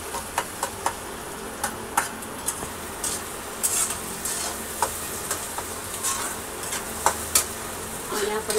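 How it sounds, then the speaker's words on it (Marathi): Poha with turmeric is stirred in a pan over a soft sizzle, a spatula scraping and tapping in irregular strokes with sharp clicks every second or so, close and moderately loud. "चांगलं हलवून घेऊया."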